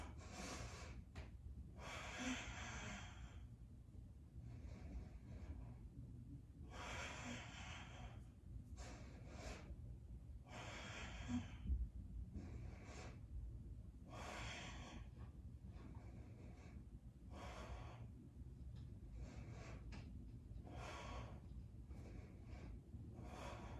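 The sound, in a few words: deep breathing in and out through the nose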